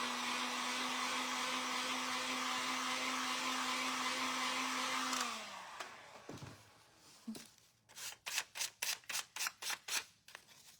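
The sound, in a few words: drying a paper tag with a hair dryer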